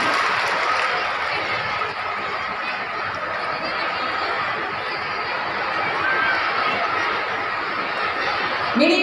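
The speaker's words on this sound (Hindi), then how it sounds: "मिनी ट्रैक्टर तालियां हो जोरदार" Sustained, dense applause from a crowd at a government scheme ceremony in Rajrappa, steady and fairly loud throughout with faint laughter and voices mixed in.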